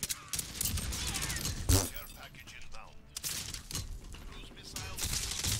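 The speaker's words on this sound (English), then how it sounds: "I'm gonna use this turret thing." Rapid turret gunfire in Call of Duty Modern Warfare, dense crackling bursts with a heavy thump midway, fairly quiet and mixed with game noise.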